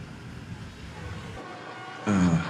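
A train rides along the rails with a continuous rumbling rattle, windows open and the wind loud, swelling louder near the end.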